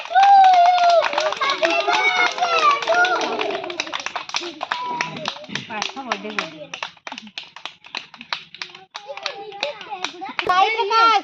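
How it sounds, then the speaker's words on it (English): Children clap their hands during a colour day celebration at a small school, first under loud sung chanting from young voices, then as a run of sharp, rhythmic claps close by with talking in between. "clap clap clap"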